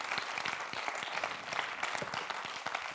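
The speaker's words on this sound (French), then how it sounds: "je vous propose de commencer ce Garocamp avec un big up, avec un énorme applaudissement pour nos 2 gentils organisateurs" Audience applause for two event organisers at a welcome address, a steady dense wash of many hands clapping throughout, moderately loud and filling the room.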